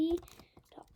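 A short run of quick clicks from typing on a computer keyboard during programming, heard close and fairly faint with a voice speaking over it.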